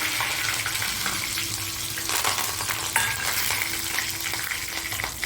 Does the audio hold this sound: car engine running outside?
no